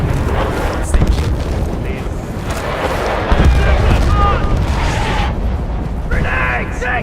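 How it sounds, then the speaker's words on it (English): Grenade explosions in the video game Battlefield Bad Company 2, loud deep booms and rumbling blasts layered in continuous battle noise, with voices shouting over the din. "Grenades! Take cover!"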